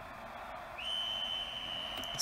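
Referee whistle in a soccer club management video game: a single steady high whistle blast holds for over a second over a constant low crowd murmur from the stadium.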